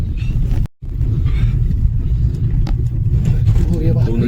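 A car grinds along a rough, stony mountain road near Sissu, Manali, Himachal Pradesh, its low engine rumble steady and close with brief bumps, and someone talks over it.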